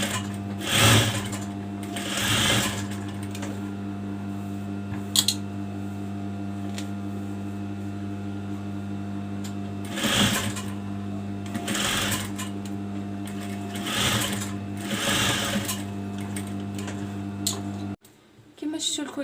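A sewing machine stitches the collar of a gandoura dress in several separate bursts over a steady electrical hum, with someone talking in between.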